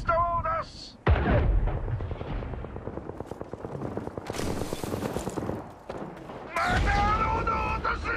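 Fuse's Knuckle Cluster launcher in Apex Legends fires explosives, giving a rapid train of sharp bursts and pops that rattle steadily for several seconds amid loud battle noise, with voices briefly heard at the start and end.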